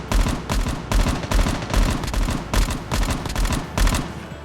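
Rapid bursts of M16 rifle fire from Call of Duty Mobile, loud and close, about ten short clustered volleys in a steady rhythm with no speech over them.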